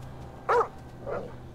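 A dog in Grand Theft Auto V gives one sharp bark followed by a softer second bark, over low steady game background noise.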